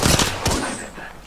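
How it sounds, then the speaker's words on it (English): Enemy gunfire in Apex Legends comes as a short cluster of sharp, close shots, the first two cracking quickly together and another following a moment later before fading out. "The enemies are shooting at me."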